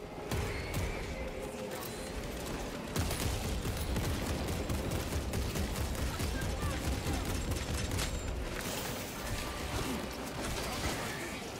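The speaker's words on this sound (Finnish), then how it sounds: "Minua ammutaan jostain." Continuous gunfire and explosions fill a battle in the video game Warhammer 40k: Space Marine 2, dense rapid shots layered with mechanical clatter, and someone talks over the din.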